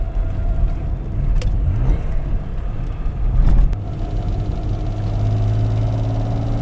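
A Toyota 2000GT, a 1960s classic sports car, drives along with a steady low engine rumble and road noise, its sound swelling briefly midway before settling into a smooth, continuous drone.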